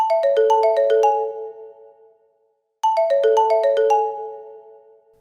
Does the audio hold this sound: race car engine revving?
no